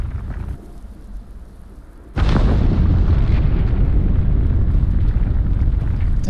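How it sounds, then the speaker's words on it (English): A recurring explosion in the video game Starfield hits as a sudden loud boom that cuts through quieter ambience, then rolls on as a sustained heavy rumble. "This weird explosion that keeps going off."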